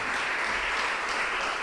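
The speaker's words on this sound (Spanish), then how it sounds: "Den un aplauso al Señor." A church congregation at a Spanish-language worship service breaks into applause: dense, steady clapping that fills the whole stretch at an even level, with no voices rising above it.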